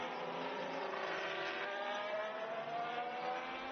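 Formula 1 car at 2017 Barcelona preseason testing, a sustained high-revving engine whine that holds steady with slight pitch rises, loud and continuous with no talking.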